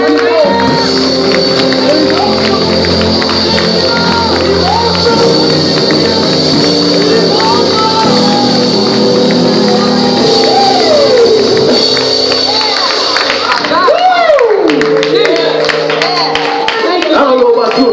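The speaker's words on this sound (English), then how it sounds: "don't you give Jesus a hand clap" A church congregation claps and cheers throughout, with steady rhythmic hand claps, whoops and shouts over a lively musical backing, loud and sustained.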